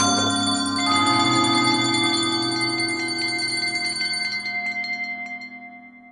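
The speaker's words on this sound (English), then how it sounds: "soon it rang loudly, and so did every bell in the house" Many bells ring together loudly in a house, a dense metallic clangor with bright overlapping tones that sustains, then thins and decays toward the end; no voices.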